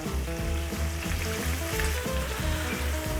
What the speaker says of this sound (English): You want to cook the shrimp till they start to become opaque and the tails slightly curl